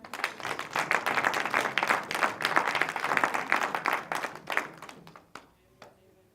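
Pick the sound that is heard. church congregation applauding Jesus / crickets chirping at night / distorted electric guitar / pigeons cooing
church congregation applauding Jesus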